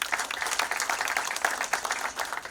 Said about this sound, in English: We need a round of applause for this.